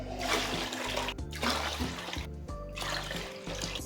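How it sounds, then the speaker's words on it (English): Water poured into a pan holding a yogurt and gram-flour mixture for Pakistani kadhi, splashing and trickling steadily at close range for a few seconds with no talk. "Add a good amount of water."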